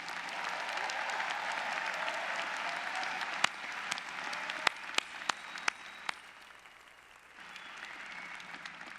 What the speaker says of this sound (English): Class of 2019, give yourself a round of applause for a job well done.